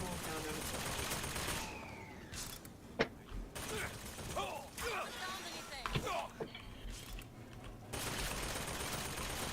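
A turret in the video game Bioshock Infinite: Burial at Sea fires rapid mechanical bursts with creaking, clanking machinery between shots, set against ambient game sound while someone talks.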